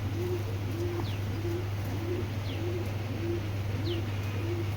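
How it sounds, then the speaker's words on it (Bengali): Racing pigeons cooing in a steady, evenly spaced series of low calls, close by, over a constant background hum and a few faint chirps. "দুইটা কবুতর দেখেন ভাই"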